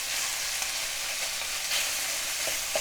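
Beef strips going into a hot pan for a beef and broccoli stir fry in oyster sauce, giving a steady, close, bright sizzle of frying meat with no talk.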